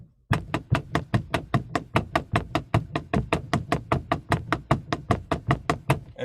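A drummer's feet tap a fast, steady stream of crisp knocks in a 5/8 rhythm, close and clear with no talk.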